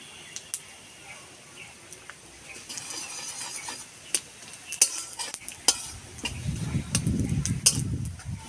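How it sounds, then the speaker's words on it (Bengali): Panch phoron five-spice and bay leaf tempering in hot oil for a kohlrabi dalna, stirred with a utensil: faint clicks and scrapes at first, then a fuller sizzle that swells near the end. "ফোড়নে দেবো 5 ফোড়ন,"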